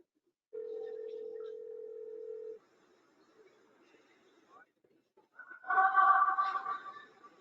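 A telephone call's ringing tone, one steady electronic tone lasting about two seconds, clear and isolated, followed by quiet and then people talking.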